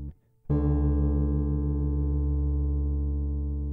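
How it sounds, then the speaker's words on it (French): Two sustained guitar notes forming an interval ring together after a sharp pluck, their slight mistuning producing a steady pulsing beat as the tone slowly decays; loud and close, no voices. "c'est la différence de fréquence entre les deux notes qui produit un battement"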